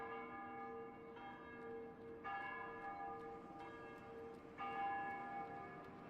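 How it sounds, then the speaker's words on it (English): Church bells toll in mourning for smallpox plague victims, a layered metallic ringing with fresh strikes swelling in roughly every second or two over a lingering hum, steady and fairly full with no voices. "the bells toll on for those taken by the plague"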